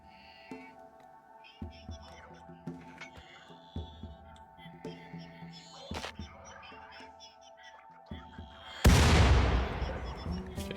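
A cannon fires one loud, booming shot with a long rumbling decay in the colony-building game Rimworld. Sharper game sound effects and background music come before it.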